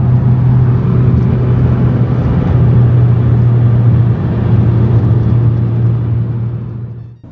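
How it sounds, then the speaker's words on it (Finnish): Steady engine drone and road rumble inside a Nissan Laurel cruising at 100 km/h, with a constant low hum and a broad wash of tire noise, no talking. "Täältä kuulostaa mun Laurelissa sataisen vauhissa"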